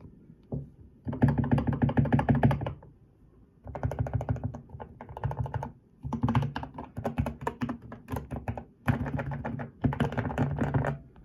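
Rapid bursts of typing on a budget mechanical keyboard, clattery and close, coming in several clustered runs with brief pauses between them.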